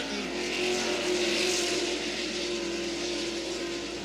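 NASCAR race cars climb a hill during a race, a sustained high engine roar that swells and holds steady, heard from a distance.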